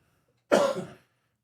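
A single short, sharp cough from an adult, close and clear against silence, lasting about half a second.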